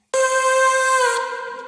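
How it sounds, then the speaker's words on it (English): A vocal sample loaded into the Serum synthesizer plays alone as one sustained, bright, tonal sung note with steady harmonics, starting abruptly and fading slightly toward the end. "I dropped a vocal sample into Serum"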